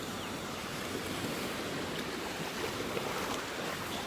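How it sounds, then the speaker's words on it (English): Ocean waves on a beach in North Naples, Florida, a continuous rushing wash of surf with gentle swells and light wind noise, no voices present. "The waves are dying down, so the water is starting to clear up."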